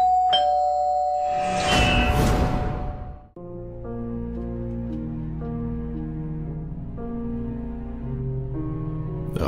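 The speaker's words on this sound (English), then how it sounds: "The doorbell chimed." A doorbell rings with a ding-dong chime: a sharp strike and a noisy burst, then a sustained, layered tone that rings on steadily for several seconds, clear and close with no voices.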